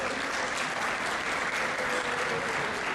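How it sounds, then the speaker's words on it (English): Audience applause fills an awards gala hall, steady and dense throughout with no break, sustained clapping from a large crowd at close range. "Please give her a big round of applause."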